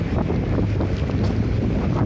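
Strong winter wind roars outdoors, buffeting the microphone in a loud, continuous low rumble that fills the whole moment without letup.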